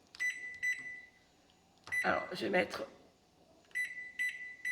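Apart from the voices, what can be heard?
microwave oven beeping while being set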